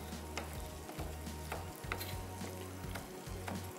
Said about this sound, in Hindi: और इनको हम करेंगे फ्राई